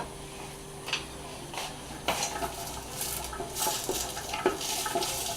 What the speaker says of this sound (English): We're gonna stir it with a wooden spoon, and about a minute of this should suffice.